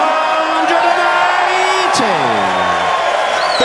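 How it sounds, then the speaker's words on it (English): A darts crowd at the 2011 World Championship semi-final between Adams and Phillips roars steadily for a 180, with whoops and yells rising and falling over the sustained cheer. "180. Biggest cheer of the night."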